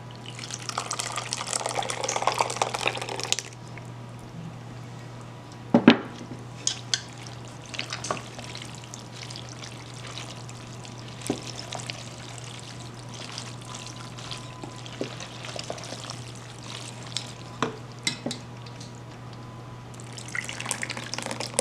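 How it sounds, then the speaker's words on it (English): Homemade cheese sauce poured into a pot of macaroni on the stove with melted butter, a soft continuous glugging and sizzling pour with scattered clicks and a steady low hum throughout. "I'm going to start pouring in my cheese sauce."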